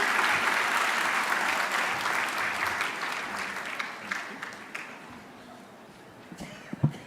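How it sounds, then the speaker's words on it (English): Around 1,200 guests at a pro-life benefit dinner clap together, a loud dense round that gradually thins and fades, leaving a few scattered claps near the end. "Give yourself a round of applause for coming."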